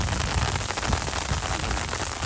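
Heavy rain pours down at an outdoor cricket match in Berlin, a dense, constant hiss that fills the whole moment with no voices over it.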